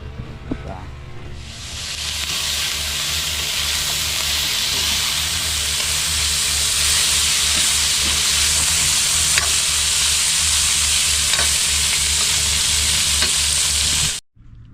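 String beans sautéing in a pan, a loud continuous sizzle that starts abruptly and holds steady with faint stirring clicks, close by, cutting off sharply at the end.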